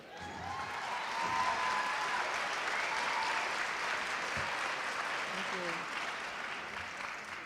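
A crowd at a Philadelphia gubernatorial candidates' forum applauds in a steady wash of clapping that swells and then slowly fades over several seconds, with faint voices mixed in.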